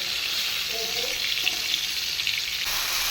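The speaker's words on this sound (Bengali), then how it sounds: "এই যে বেগুন ভাজা করছি আগে বেগুনটা ভাজা করে নেব" Oil sizzles and crackles steadily as eggplant fries in a pan, a bright hissing texture that continues throughout with a few faint clinks.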